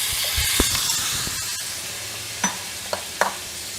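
Chopped pumpkin sizzles and hisses steadily in a hot pan for a pumpkin subzi, with a few scraping stirs and light knocks of the spoon standing out over the constant frying, close up and with no voices.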